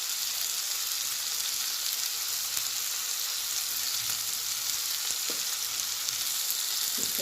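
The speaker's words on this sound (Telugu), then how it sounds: "ఆనియన్స్ బాగా ఫ్రై అయ్యాయి కదా, ఇప్పుడు మనం టమాటా ముక్కల్ని యాడ్ చేద్దాం." Onions and tomato pieces sizzle in oil in a pan while an Indian amla (usirikaya) curry is cooked, a loud, steady frying hiss that carries on throughout with no voices.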